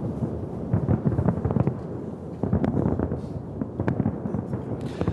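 Fireworks burst over the White House after a presidential inauguration, a dense run of crackling pops and thuds at moderate distance, steady throughout with no voices.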